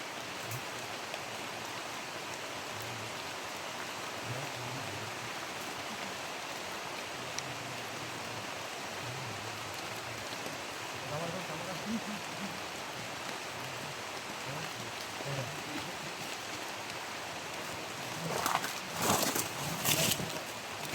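Rain falling outdoors in a rural Philippine setting, a steady soft hiss of drops throughout, fairly faint, with a brief louder spatter near the end and no talk.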